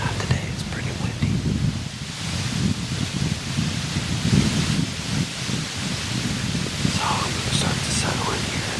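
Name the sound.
wind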